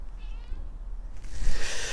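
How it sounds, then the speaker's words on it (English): Cats meowing in a kitchen garden, a faint mew early on followed by louder, closer meows over outdoor background noise. "Runaway cats."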